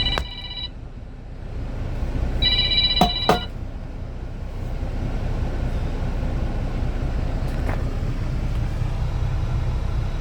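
A spam caller's telephone rings with two short electronic tone bursts near the start, standing out over a steady low rumble of background noise that continues afterward without further ringing.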